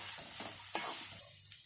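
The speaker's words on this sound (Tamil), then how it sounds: "இதை நல்லா பொன்னிறமாகிற வரைக்கும் வதக்கிக்கலாம்." Sliced onions sauté in a hot pan, a soft continuous sizzle broken by a few scraping stirs, close and moderately quiet with no talk.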